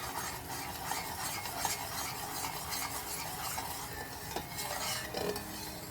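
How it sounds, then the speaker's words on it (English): A meat-based sauce froths and browns in a pan over high heat, with a steady close sizzle and occasional scraping stirs, no talking. "I have it on a high heat, and this will just froth up, start to brown, and we'll make the sauce"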